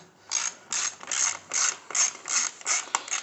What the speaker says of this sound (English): Now we're going to put this bolt back in.